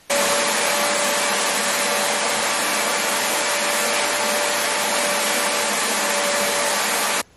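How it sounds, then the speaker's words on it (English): A shop vac running off a Bluetti AC200P power station roars steadily for about seven seconds, loud and close with a faint whine, then cuts off abruptly. "I have no doubt that it's going to run this shop vac"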